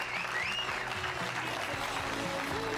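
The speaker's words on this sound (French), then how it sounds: "Il faut les applaudir fort." Applause from an audience at a sailing awards evening, steady and moderately distant, with a tonal background and faint voices mixed underneath.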